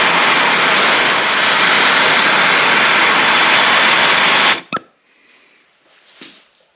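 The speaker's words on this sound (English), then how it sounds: "We're going to use some MAP gas here, and we're going to heat these nails up until they're cherry red" A MAP gas torch roars steadily at close range while heating cut masonry nails until they glow cherry red, then cuts off abruptly, leaving a brief click and faint rustling in near silence.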